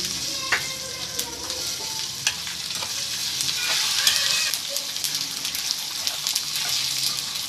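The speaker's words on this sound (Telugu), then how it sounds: "ఇవి చిట్టుపట్టం అనేదాకా వేపుకోవాలండి" Ingredients for a raw mango chutney, including sesame seeds, fry in a pan until they crackle: a steady loud sizzle with scattered sharp pops and stirring scrapes throughout, no voices.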